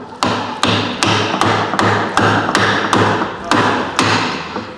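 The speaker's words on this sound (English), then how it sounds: "we take the hammer, and it's important to hit it flat on so that we do not damage the plastic insert" A hammer taps a plastic insert into a carbon rod frame in about ten sharp, evenly spaced knocks that ring briefly, close and loud, with no talking.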